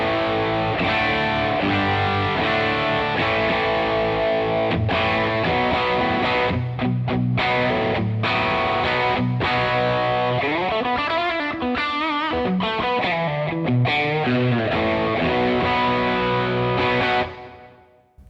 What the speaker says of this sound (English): If I bring in the Tube Screamer